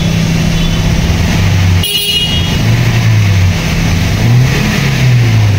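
Car engine running on used LPG gas injectors, revving and sputtering unevenly with surging pitch, loud and close, with a brief abrupt cutout partway through.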